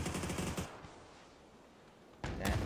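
Video game gunfire during a competitive league match, rapid bursts of automatic shots at the start and again at the end, with a quieter stretch between, fairly close and loud.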